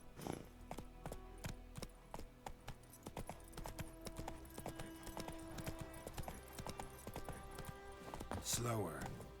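Roach the horse trots in The Witcher 3, with rapid, even clip-clop hoofbeats on the ground close by and steady throughout, over game background sound, ending in a short snort or whinny.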